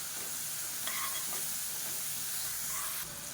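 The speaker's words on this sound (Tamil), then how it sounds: "இப்போ இஞ்சி பூண்டு நல்லா வதங்கிருச்சு." Ginger garlic paste sautés in hot oil for kadai chicken rice, giving a continuous soft sizzle and hiss with a couple of faint stirring scrapes, fairly quiet and close, no voices.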